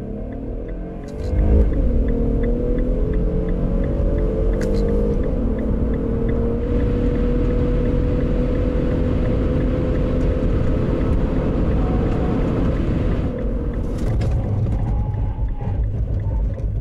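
Infiniti M35x sedan accelerating hard in a 0-100 km/h run, engine note rising steadily through the gears with a sustained loud drone for most of the stretch, easing slightly near the end.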